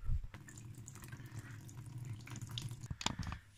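Coolant draining from a Yamaha YZ motorcycle engine runs as a steady close splashing trickle into a container for several seconds, with a brief clatter near the end.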